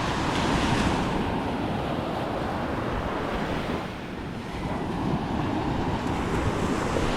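Sea waves roll in at a clean beach with a continuous broad wash of surf, heavy wind buffeting the microphone, and a brief lull midway.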